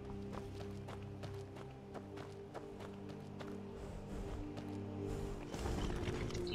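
Hooves of a horse gallop in rhythmic, steady beats through Skyrim's Falskaar mod, fairly quiet and blended into a continuous droning game ambience.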